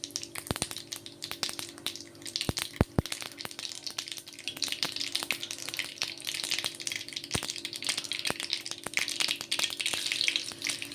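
Mustard and cumin seeds crackle in hot oil in a pan for a raw prawn and cucumber curry. Sharp, scattered pops snap over a steady sizzle, some loud and close, others small and quick.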